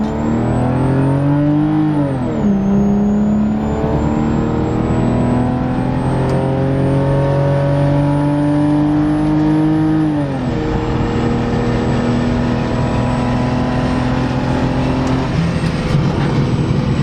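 A BMW E46's engine roars loudly from inside the car while driving, holding steady revs with two brief dips where the pitch falls and climbs again, continuous and close throughout.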